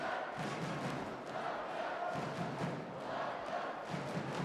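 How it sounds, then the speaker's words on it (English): A steady crowd roar with drumming from the arena stands at an Olympic boxing welterweight semi-final, distant and continuous, swelling and easing slightly throughout. "the drums and the crowd strike up again"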